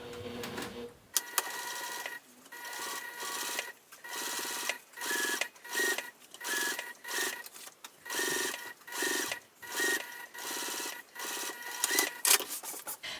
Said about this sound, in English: So I'm sewing through the seam of the top, the bottom, and the piping.